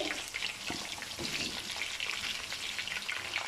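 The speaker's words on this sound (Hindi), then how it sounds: "इसको हम करेंगे थोड़ी देर के लिए फ्राई। फ्लेम हमने हाई रखी है और हाई फ्लेम पे हमने इसको भून लेना है।" Potatoes fry in ghee in a pan over a high flame, giving a close, steady crackling sizzle with small pops and no talk.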